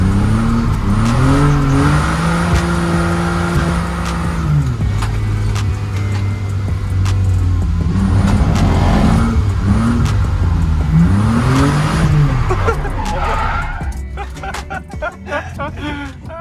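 Car drifting through a corner during a drift lesson with a pro, engine revving and whirring in rising and falling surges with tyre noise, loud and close, with a voice talking over it.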